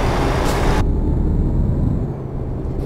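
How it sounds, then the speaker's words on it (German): Air brake release on a truck in Euro Truck Simulator 2, a loud broadband hiss that cuts off sharply after under a second, leaving a steady low engine rumble. "Muss jetzt nur noch die Bremse loslassen"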